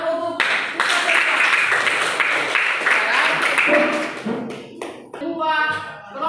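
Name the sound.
class applause after group presentations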